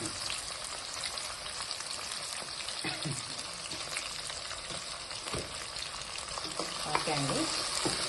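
Brinjal pieces frying in a pan, a soft continuous sizzle with occasional stirring scrapes and clinks, fairly quiet and close, with no voices.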